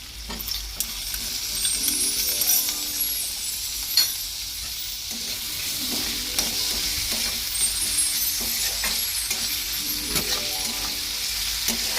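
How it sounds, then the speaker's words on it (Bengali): Chopped tomatoes fry in a pan for a fish egg curry, a close, continuous sizzle broken by the scrape and clink of a spatula being stirred through them at irregular intervals. "এরমভাবে নাড়াচাড়া করতে হবে।"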